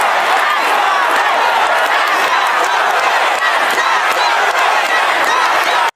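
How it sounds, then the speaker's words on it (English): A loud, dense crowd at a New York rally chants "tax the rich" while New York Governor Hochul speaks, a steady roar of massed voices filling the whole stretch without pause. "here's cross chanting, tax the rich, as New York Governor Hochul spoke at the New York is not for sale rally last night"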